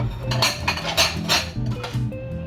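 A metal lid set onto a cooking pot while making kichori, a Bangladeshi rice dish, giving several close, bright clinks and clatters of metal on metal in quick succession, with no voice heard.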